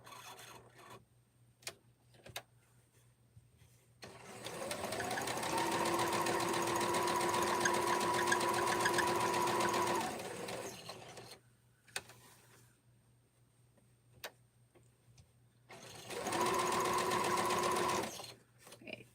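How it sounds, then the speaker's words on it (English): A sewing machine stitches rag quilt blocks as the bobbin nears empty, running in two steady bursts of several seconds each, close and loud, separated by quiet pauses with small handling clicks. "Now I'm going to sew around because I'm getting close to the bobbin being out"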